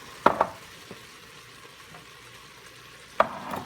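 Potatoes sauteing in an Instant Pot, a low soft sizzle under a few sharp clinks of a utensil against the pot, two close together early and one more near the end.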